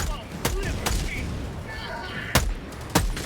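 Rifle gunfire in Helldivers 2, four sharp distinct shots spaced irregularly over several seconds amid a busy battlefield rumble and a voice talking.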